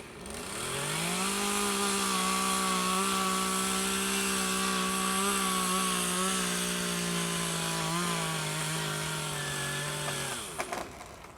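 A chainsaw cuts through to fell a tree, its engine droning loudly at a steady high pitch for about ten seconds before it drops off, ending in a brief crack as the cut finishes.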